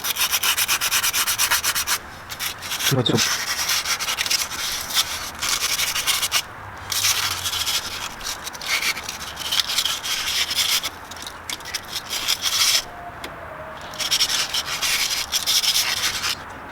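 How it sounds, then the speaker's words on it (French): Close, steady scraping as the water pump gasket seat is cleaned on a Renault Clio 2 1.2 L engine, continuous abrasive strokes with brief pauses and no talking. "On va maintenant venir gratter la portée du joint de pompe à eau."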